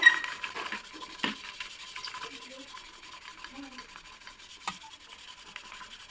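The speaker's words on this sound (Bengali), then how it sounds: "আমার যে ঢাকনাটা ছিল জাগের সেই ঢাকনাটা আমি এবার তোমাদেরকে মেজে দেখাবো" A brass jug lid being scrubbed clean, rubbing and scouring strokes in close, uneven bursts, with one loud scrape near the start and quieter scratchy friction afterward.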